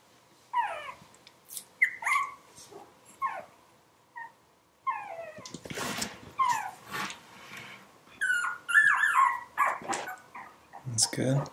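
Three-week-old Aussiedoodle puppies whimper and yelp in repeated short, high, close cries, several overlapping at times, with brief quiet gaps between bursts.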